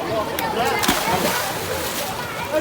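A child jumps feet-first into a swimming pool, making a short splash and sloshing water, while an adult coach speaks over it.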